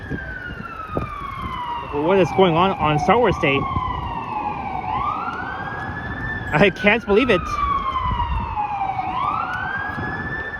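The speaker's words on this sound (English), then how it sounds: "That's a fire truck approaching by." Fire truck siren wailing on a busy downtown Toronto street near Yonge and Dundas Square, its rising and falling tone sweeping loud and close across the whole stretch, with traffic beneath and someone talking briefly over it.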